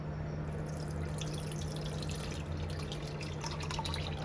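Washed butter water poured and strained through a sieve into a pot, a steady close trickle of running liquid for the whole stretch, with no talking.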